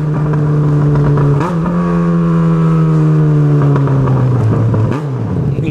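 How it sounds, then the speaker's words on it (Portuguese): A motorcycle with a broken exhaust and its muffler tip missing revs loudly up close, a harsh droning engine note that rises, holds and then falls back with pitch sweeps, alone without talk. "Engraçado que sem a ponteira a moto faz menos barulho do que com a ponteira."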